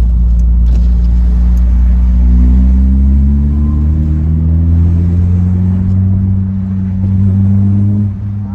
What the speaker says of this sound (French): C'est vrai que c'est quand même une voiture qui est très bruyante, avec la ligne inox